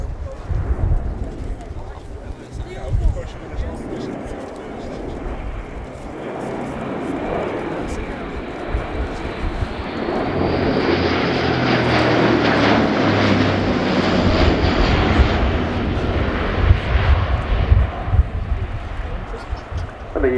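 An Airbus A400M military transport performs a flying display at RIAT, its turboprop roar building and swelling steadily over about twenty seconds, loud and sustained, with a voice talking over it throughout.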